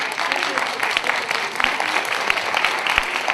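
Applause from the audience at a school's Kalamış end-of-year show, honouring the students who helped behind the scenes; steady dense clapping fills the clip with a few sharper individual claps standing out.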